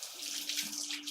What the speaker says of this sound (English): So I'm just rinsing off my hand.